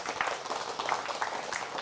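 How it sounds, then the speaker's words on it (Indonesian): Audience applause closing an Indonesian religious sermon, a steady wash of clapping from a crowd that stays moderately loud and continuous throughout, with no voices over it. "ini sunat tepuk tangan berarti selesai ceramah"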